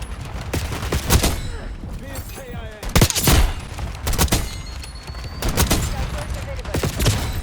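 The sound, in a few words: gunshots from the video game Call of Duty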